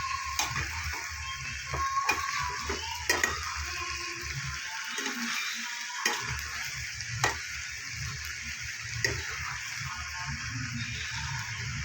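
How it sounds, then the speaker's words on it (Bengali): Kohlrabi and potato stirred with Kashmiri chilli, turmeric and spices in a pan for a vegetarian curry, a steady faint sizzle with scattered scraping and clicking of the spoon throughout. "কাশ্মীরি লঙ্কা দিয়ে মশলার সাথে ভালো করে ওলকপি আলুটা আমি মিশিয়ে নেব"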